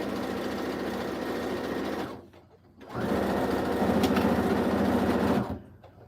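A sewing machine stitches a zipper pouch in two sustained runs of fast, even mechanical whirring separated by a short pause, loud and close with no talking.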